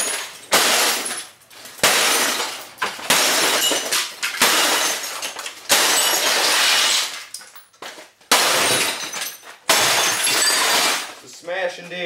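An old Philco television is smashed for scrap. About seven loud, close crashes of breaking glass each ring out into shattering and tinkling fragments, separated by short pauses.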